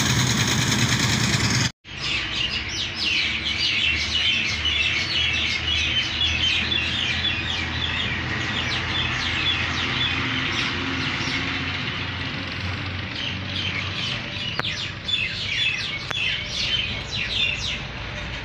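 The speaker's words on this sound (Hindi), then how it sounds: "सुबह सुबह का टाइम है और परिंदों की चहचहाट सुने" Birds chirp and twitter continuously in the early morning, a dense chorus of many small calls layered over a steady low rumble, with no talk.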